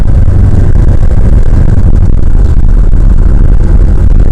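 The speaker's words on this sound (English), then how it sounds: "I'll go ahead and accelerate, go a little faster." A 1980 Mercedes 300D accelerating along a road, its engine giving a loud, steady low rumble that holds unbroken for several seconds with no talking.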